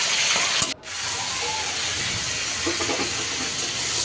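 Salted chicken pieces dropped into hot oil in a pan for chicken biryani, giving a steady, loud broadband hiss and sizzle that runs throughout, with a brief dip early on and faint clatter underneath.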